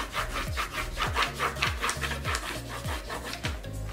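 Crayon rubbing back and forth over sandpaper numbers in a Montessori math lesson, a steady rhythmic scratchy rasp with about seven strokes, close and fairly quiet, no talk.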